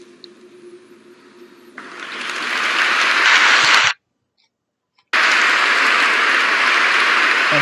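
A crowd applauds at a speech by the Pope, the sustained broadband clapping swelling loudly from a quieter start, cutting off for about a second, then resuming at full strength.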